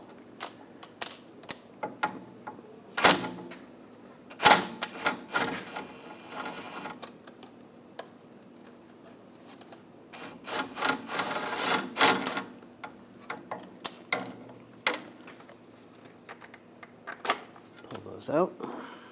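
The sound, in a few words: removing CV axle bolts with M8 triple square socket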